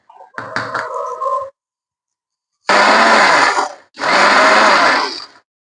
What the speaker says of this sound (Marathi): असं करून हे सगळं वाटतो आपण मिक्सरला लावून घेऊया